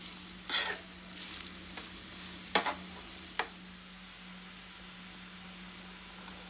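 Onions roasting in hot oil for birista, a faint steady sizzle broken by a few short stirring scrapes and clinks, with no one talking.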